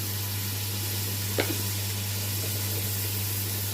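An onion sautés in melted ghee in a pan, giving a steady close sizzling hiss throughout, with a brief faint knock partway through.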